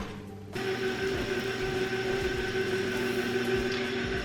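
Electric mixer beater working a loose gluten-free cinnamon Danish batter with raisins, switching on after a brief quiet start into a steady, loud motor whir with a constant tonal hum and faint rattling throughout.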